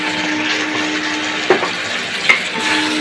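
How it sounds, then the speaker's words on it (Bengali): Duck meat with Kashmiri chilli powder sizzles in a pan while being stirred, a steady close frying hiss broken by two sharp scraping strokes. "প্রায় আধ ঘন্টা কষিয়ে নেব।"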